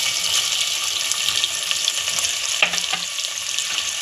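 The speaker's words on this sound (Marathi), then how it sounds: "कांदा टाकत आहोत." Onion fries in a pan for daliya khichdi, a loud, steady, close hiss of sizzling oil throughout, with a faint stir or scrape of a utensil near the middle.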